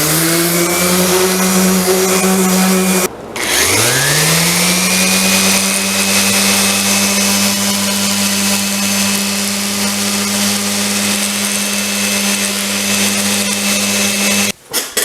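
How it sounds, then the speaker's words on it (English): An electric power sander runs on oak drawer fronts with a loud, steady whine that briefly cuts out and restarts near the beginning, then drones on continuously before stopping at the end. "I'll do a little sanding and then we can install them."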